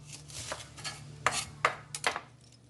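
A knife slices food on a cutting board, with about six to eight crisp chops in an uneven rhythm, close and fairly clear, with no talk over them.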